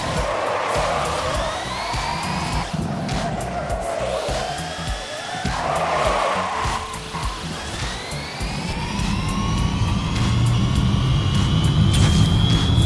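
An electric Ford F-150 Lightning pickup driving in Forza Horizon 5 gives off a steady, jet-like whine whose tones slide upward as it speeds up and grow louder toward the end, alone with no talk.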